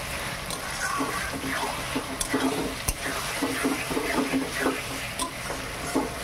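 Spices and tomato fry in a pan, with a constant hiss of sizzling oil and repeated, close spatula scrapes and taps as the mixture is stirred.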